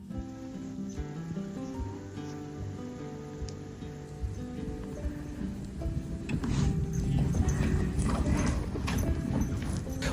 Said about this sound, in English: the other horses have already gotten used to her. They walk in the beautiful winter forest